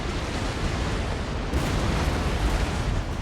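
Cannon volleys and burning fire in a naval battle video game between the Spanish Armada and the Royal Navy, heard as a dense roaring wash of blasts and crackle that swells louder halfway through, with no talking.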